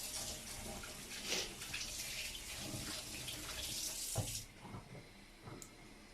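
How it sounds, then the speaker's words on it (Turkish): Hands washed under a running tap, a steady close splashing hiss of water that stops abruptly near the end, leaving a quiet room. "Hemen bir elimi yıkayayım."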